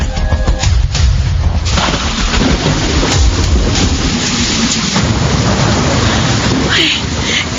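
Steady, loud rain pours while thunder rumbles and booms throughout, a storm sound effect in a Filipino radio drama.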